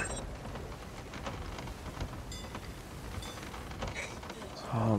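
Storm at sea in Sea of Thieves: steady, dense rain hisses throughout, with low thunder rumbles and scattered sharper crackles, growing louder at the very end.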